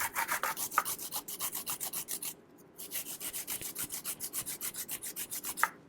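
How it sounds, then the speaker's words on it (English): Fresh ginger rubbed back and forth on a small kitchen grater, making a rapid, even rasping rhythm of close, crisp strokes. There is one brief pause partway through before the steady scraping resumes. "And I have this little grater right here."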